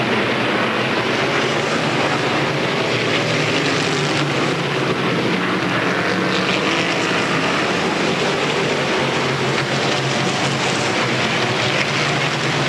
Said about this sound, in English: Wayne Tassine closing in on Kurt Habadell for 2nd into 3. It's 1 lap to go in the M-Stall Invitational